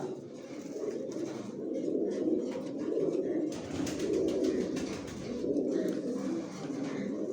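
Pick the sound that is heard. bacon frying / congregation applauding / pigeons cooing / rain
pigeons cooing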